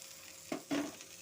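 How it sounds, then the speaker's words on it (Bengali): Dried shrimp tossed into a frying pan of taro-leaf curry with tomatoes, making two quick bursts of sizzle and stirring against a faint background hiss. "এখন আমি দিয়ে দিচ্ছি শুটকি চিংড়িগুলো"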